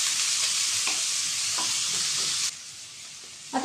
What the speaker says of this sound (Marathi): मी याच्यात कांदा घालते. थोडासा अगदी गुलाबी होईपर्यंत त्याला असं फ्राय करायचं.